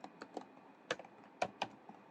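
Someone types code on a computer keyboard, a handful of quick, close, irregular key clicks with short pauses between them and no talking.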